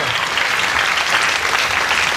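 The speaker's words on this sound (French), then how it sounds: "Oh là là, ça s'applaudit, mesdames et messieurs" Audience applause at a concert in a hall, a dense, loud, continuous clapping from a crowd for just over two seconds with no voices standing out.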